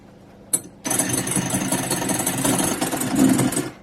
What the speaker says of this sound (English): now I'm going to whisk these up to equal soft peaks